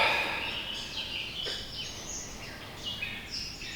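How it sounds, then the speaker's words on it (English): Several birds chirp and sing at a distance over a soft, steady outdoor hiss, with no voices. "I'm going to let you enjoy the birds."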